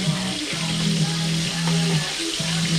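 Chicken wings fry in a pan with a steady broadband sizzle, accompanied by recurring low hum-like tones that come and go every second or so; no one speaks.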